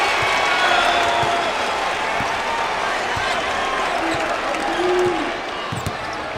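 Basketball arena crowd at an NCAA men's game between UL Lafayette and LSU applauds and murmurs after a blocked shot, a broad sustained roar with sneaker squeaks and ball bounces, easing near the end under commentary.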